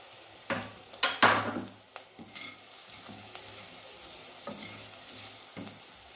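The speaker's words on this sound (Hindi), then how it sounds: "मसाले अच्छी तरह से भुन गए हैं।" Spices for aloo sabji sizzle and fry in a pan, with a loud burst of crackling early on and then repeated scrapes of stirring over a steady low hiss.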